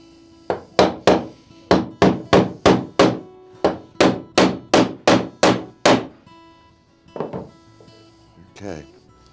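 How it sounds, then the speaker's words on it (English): A hammer taps wrought iron hinge straps on 18th-century cellar door hardware: about a dozen sharp, evenly paced metallic strikes close by, then a pause and a few lighter, scattered knocks. "a few taps of the hammer"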